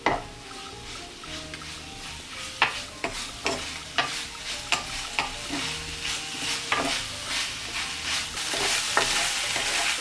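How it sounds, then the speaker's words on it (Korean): Minced garlic stir-fried in a pan with tuna sauce and oyster sauce gives a steady sizzle, broken by repeated clacks of a spatula against the pan at an uneven rhythm, close and clear with no talking. "다진 마늘 1스푼을 넣어 다진 마늘의 아린 맛을 날리며 잠시 볶아주세요."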